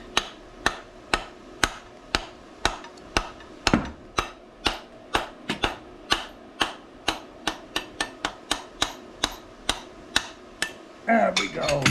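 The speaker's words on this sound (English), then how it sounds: "I'm just going to try to tap it out with this lead hammer in my hand." Repeated sharp lead-hammer taps on the metal of an antique automotive generator, close and fairly regular, about two or three strikes per second, ringing briefly after each hit.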